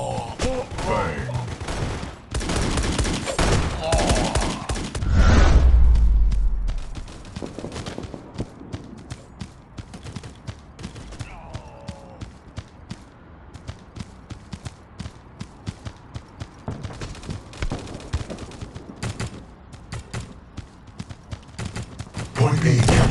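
Ranger shotgun blasts in the Gods of Boom shooter game, many sharp shots scattered across a long stretch of match action, with a deep boom early and game voice announcements over it.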